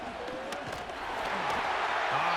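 A simulated stadium crowd in the Madden 25 football game, with the Chiefs at the Ravens in the AFC Championship, roars in a broad, steady wash that swells slightly toward the end, with faint voices mixed in.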